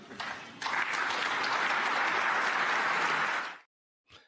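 Applause from an audience following a speech on European armed forces, a dense, sustained wash of clapping that swells quickly, holds steady for several seconds, then cuts off abruptly, with a brief faint burst after.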